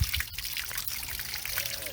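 Water gushes and trickles out of an RV water heater's drain in a steady pouring rush, close and continuous, with some faint background noise.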